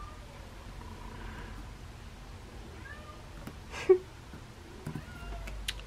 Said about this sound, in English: I think my cats are going to be crying